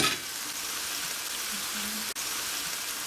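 Smash burger patties sizzle steadily on a hot griddle, a continuous close frying hiss that holds through the clip with a brief dip near the end and no talking.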